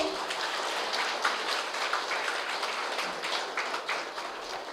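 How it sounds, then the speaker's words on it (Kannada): An audience applauding at a Maha Shivratri celebration, a dense steady patter of many hands clapping, moderately distant and sustained throughout with no voices. "ನಮ್ಮ ಜನ್ಮ ಉತ್ಸವಕ್ಕೆ ಜೋರಾಗಿ ಚಪ್ಪಾಳೆ ಬರಲಿ."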